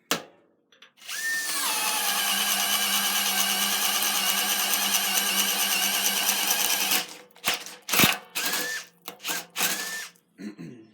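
A brushless Makita FD07 12-volt CXT 3/8-inch compact drill whirs steadily at high speed for about six seconds, then spins in short bursts with brief pauses, loud and close with no talking.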